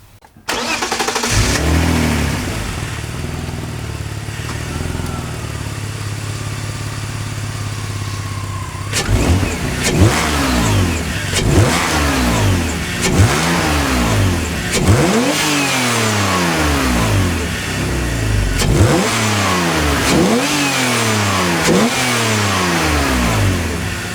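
A BMW E46 fitted with a homemade budget cold air intake starts up and settles into a steady idle, then is revved repeatedly in a series of loud, rising and falling blips, heard close with no talking.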